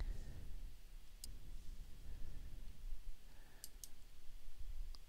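Faint, sparse computer mouse clicks while shift-clicking nodes in Silhouette Studio, a few soft isolated ticks over quiet room hiss.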